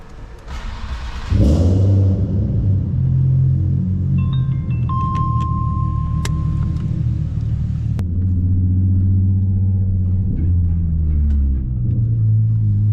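Car with a custom single-exit exhaust starting to drive, a deep loud rumble that builds and holds steady, with gentle rises in pitch as it accelerates.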